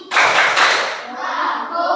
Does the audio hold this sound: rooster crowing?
no